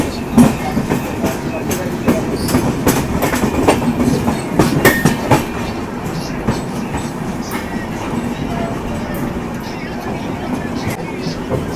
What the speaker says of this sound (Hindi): नागपुर से अपनी ट्रेन निकली है